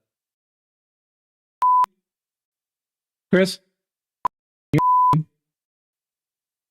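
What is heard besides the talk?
beeping sound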